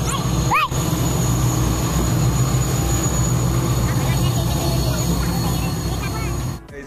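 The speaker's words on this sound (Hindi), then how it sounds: "चालू है ट्रेन जाने वाली" A train departs a railway station with a loud, steady rumble throughout and a short squeal early on, while people talk nearby.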